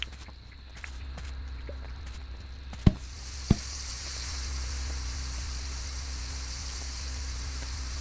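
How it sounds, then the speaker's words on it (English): Meat cooking in the video game Dinkum, a steady soft hiss of sizzling that grows slightly fuller, with two sharp clicks partway through. "Oh, and we're cooking meat too."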